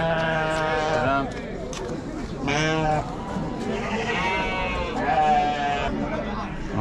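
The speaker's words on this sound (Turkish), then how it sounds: "şu an koyun marketindeyiz" Sheep bleat repeatedly in loud, wavering cries, close by, at a village livestock market in Africa, over a busy background of crowd chatter and people talking.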